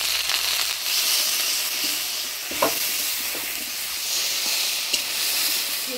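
Okra tossed into a pan of hot oil tempered with nigella seeds, for a Bengali mustard okra dish, gives off a steady, close, loud sizzle and hiss, broken by a few soft stirring clicks.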